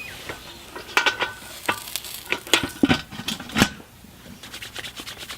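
A steak sizzles under a lid on an outdoor garden grill, with faint steady frying broken by sharp crackles and pops at irregular intervals, fairly close and without talk.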